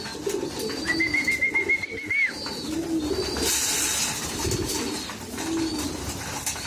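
Pigeons coo softly nearby in low, rolling bursts, with a brief high whistle-like tone and light rustling in the background.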